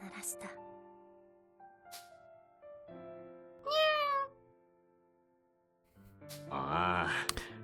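Cat in Fuga: Melodies of Steel 3 giving several separate meows over quiet game music, one clear mid-clip cry and a longer, louder meow near the end.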